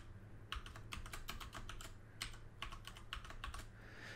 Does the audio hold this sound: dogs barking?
no